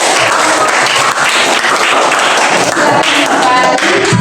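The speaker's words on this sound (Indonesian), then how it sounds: "Tepuk tangan dulu." Students in a classroom applaud together in loud, dense, sustained clapping that fills the whole span without pause, with scattered voices and a few thumps mixed in.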